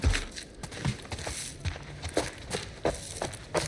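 Rapid running footsteps in The Last of Us Part I, a steady series of fairly close, quick thuds with no talk over them.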